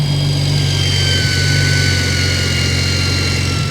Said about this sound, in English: Can you hear that turbo?